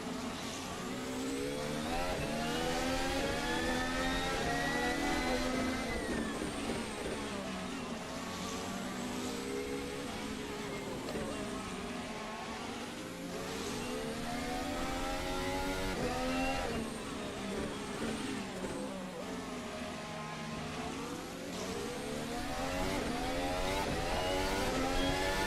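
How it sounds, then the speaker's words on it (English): Formula Alpha open-wheel race car engine in a sim racing game, revving hard through repeated upshifts and downshifts with rising and falling whine, loud and continuous throughout. "we're driving the Formula Alpha from Virtual Racing Cars"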